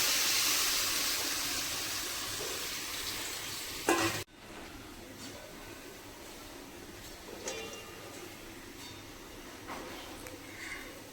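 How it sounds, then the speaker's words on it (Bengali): Spice masala for a potato dum being stir-fried in oil, a loud close sizzle that cuts off sharply after about four seconds with a scrape, then quieter frying with occasional stirring clatters. "কষাতে কষাতে মশলা থেকে তেল ছেড়ে দেবো"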